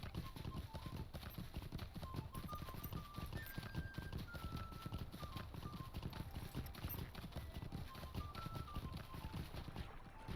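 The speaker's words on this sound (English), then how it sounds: "See if I can move around on the horse to move just a little bit faster." Horse ridden in the Lord of the Rings Online video game, with a fast, steady clip-clop of hooves running for ten seconds under a light melody.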